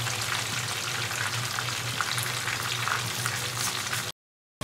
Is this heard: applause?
no